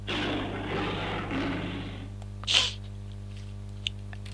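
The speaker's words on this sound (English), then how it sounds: "He sneezed because of all the pepper spread on scarf." A lion sneezes once from pepper spread on a scarf in the Phoenix Wright: Justice for All courtroom game, a short sharp burst after steady game background sound, then a faint click.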